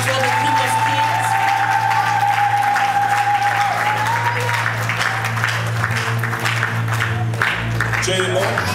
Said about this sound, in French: Let's clap for the King of Kings.